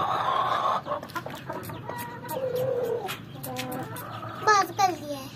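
A Golden Buff egg-laying hen and a Black Buff cock cluck close by in a series of short, varied calls, while a voice and other voices talk at times.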